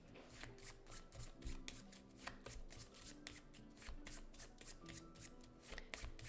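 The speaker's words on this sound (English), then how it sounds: "We are going to shuffle her cards again." Playing cards for the board game Septima are shuffled over and over, a dense run of rapid riffling clicks and slaps that continues steadily at close range with faint music underneath.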